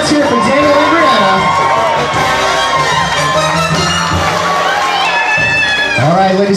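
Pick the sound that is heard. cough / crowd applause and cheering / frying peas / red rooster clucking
crowd applause and cheering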